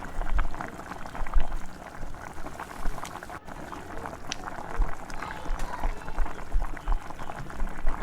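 Thin potato chip slices fry in hot oil, a steady dense sizzle and bubbling that runs throughout at close range with faint crackles.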